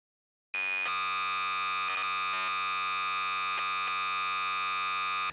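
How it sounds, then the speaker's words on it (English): Atari 2600 Compumate image data encoded as audio: a loud, steady, buzzing multi-tone signal that starts abruptly after a short silence and holds without a break. "the data of that image will be encoded in the audio signal that then we can decode back to the image"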